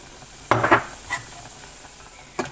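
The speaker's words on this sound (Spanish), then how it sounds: "Vamos a revolver." A spoon stirs a simmering, foaming mixture with baking soda and salt in a pot, giving two quick scraping strokes, then a fainter one and a final short scrape.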